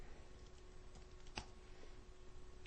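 Faint, quiet clicking of computer keyboard keys as Visual Basic code is typed, with irregular soft keystrokes and one sharper tap, heard alone.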